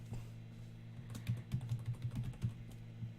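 Code being typed on a computer keyboard during a Minecraft modding session, with a quick run of close, crisp key clicks at an uneven pace.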